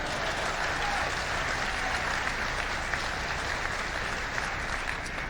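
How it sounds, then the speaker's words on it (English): A crowd at a Marco Rubio political rally in Texas applauds, a dense, even wall of clapping and cheering heard close and loud throughout. "You can go ahead and clap because I don't like it either"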